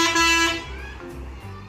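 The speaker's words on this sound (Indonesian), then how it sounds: "Widih, ini ada mobil truk molen." A toy cement mixer truck gives a short electronic horn toot, then a few softer tonal beeps, fairly loud and close with no talk over it.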